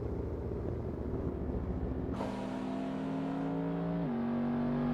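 A race car in the Assetto Corsa racing game, a Copa Montana event at Brasilia, crosses the finish line: a steady engine drone jumps into a louder, higher whine midway, then shifts pitch again as it holds on near and continuous.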